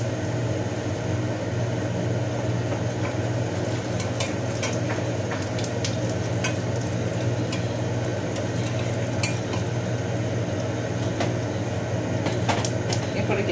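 Whole cumin and asafoetida sizzle in hot oil for bhindi masala, giving a steady close crackling hiss with occasional light clinks of a utensil against the pan.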